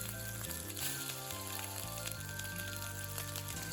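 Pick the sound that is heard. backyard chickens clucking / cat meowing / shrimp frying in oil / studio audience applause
shrimp frying in oil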